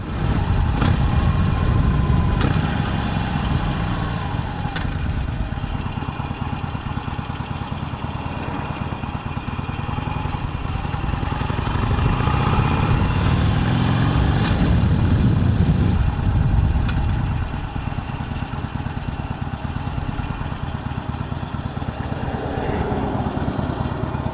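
Harley motorcycle engine idling after pulling over, a continuous low, uneven rumble with scattered clicks and a bit of road noise, held close and steady for the whole stretch.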